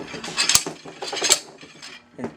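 A bearing puller working a wheel bearing out of a Victory motorcycle wheel: close metallic clicks, scrapes and clinks in short uneven bursts, with a couple of sharp ticks.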